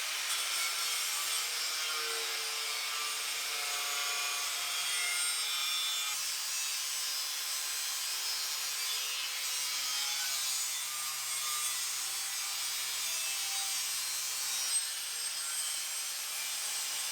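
A notch is cut into the inner frame rail of a 2015 Mustang coupe, giving a steady, close, continuous abrasive cutting hiss that lasts the whole stretch without pause, with no speech.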